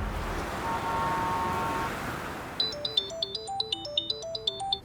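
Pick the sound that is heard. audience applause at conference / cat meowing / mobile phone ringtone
mobile phone ringtone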